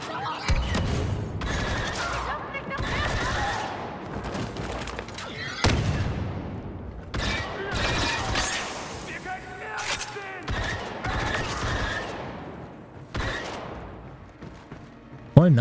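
Grenades launched from an alternate-fire weapon in Star Wars Battlefront 2 burst amid rapid blaster gunfire and booming explosions, a chaotic string of loud cracks and blasts with a voice talking over the action.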